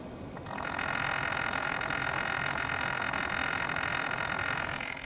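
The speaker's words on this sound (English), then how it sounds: "And the noise is back now that the pump is running." A defective all-in-one CPU water cooler pump starts up and settles into a steady whirring, rattly hiss with a broad noisy tone, recorded close to the pump and continuing alone.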